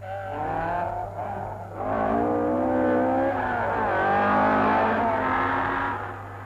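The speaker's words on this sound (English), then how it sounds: "Here comes Paddy in hot pursuit of Vard's Porsche." A 1971 Porsche 1600 GT rally car racing on a loose stone stage through Connemara countryside, its engine rising and falling steadily as it passes, fairly near and loud, with no voices.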